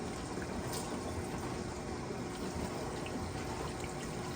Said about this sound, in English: And then I add just a little water.